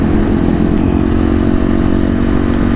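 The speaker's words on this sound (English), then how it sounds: "Got a nice Harley here." A Harley-Davidson motorcycle on a highway, heard as a loud, continuous engine drone mixed with heavy wind roar from a moving rider's helmet, steady throughout with no talk.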